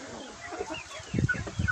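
A Black Copper Marans rooster among a flock of hens gives low, close clucks and short guttural calls in a quick burst, with no talking.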